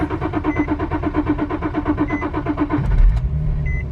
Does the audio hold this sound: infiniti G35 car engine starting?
yes